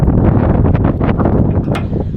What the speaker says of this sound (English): Golly, it's windy.